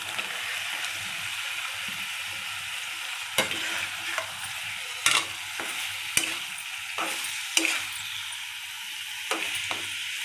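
Fish sizzling in a pan of Nellore-style fish curry (chepala pulusu), a continuous hiss of frying broken by occasional sharp clinks and scrapes of stirring.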